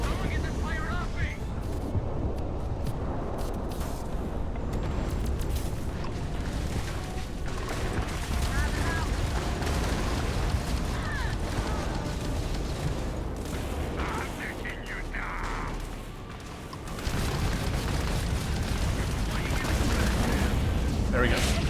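A Starfield battle fills the air with continuous gunfire and booming explosions, loud and chaotic for a long stretch, with a brief dip before the barrage surges again, and shouted voices mixed in.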